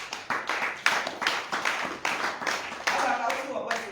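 A church congregation claps together during a service, giving rhythmic bursts of hand claps at a steady beat. Voices can be heard along with the clapping.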